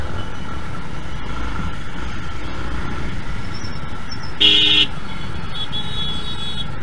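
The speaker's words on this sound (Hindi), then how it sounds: "बहुत ट्रैफिक है" Heavy road traffic at night rumbles steadily, with engines droning close by. A single loud car horn honk cuts through just past the midpoint, and a fainter toot follows. No one speaks.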